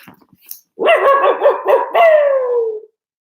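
A small dog gives a quick run of high, yappy barks up close, then a longer drawn-out whining yelp that trails off, with no talk.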